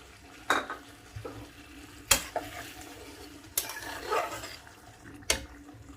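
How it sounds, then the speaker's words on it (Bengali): Water is poured into frying masala in a pan for a moong dal and ridge gourd curry, with a few clinks of a spoon against the pan, faint sizzling and short splashy bursts, with no talk. "এই সময় আমি দিয়ে দেব পরিমাণ মতো ঝোলের জন্য জল।"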